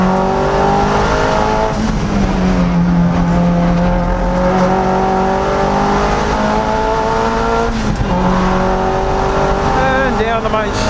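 Boosted Mazda MX-5 Miata on a race track at The Bend circuit, engine revving and changing pitch through gears under braking and acceleration, loud and close from inside the car, with a driver talking over it.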